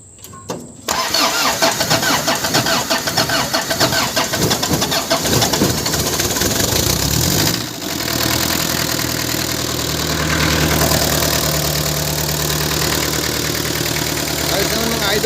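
Isuzu 4BA1 diesel engine with a faulty heater plug cranking for a long while before it catches, then knocking into a rough, loud, steady idle, with someone talking over it and birds faintly in the background.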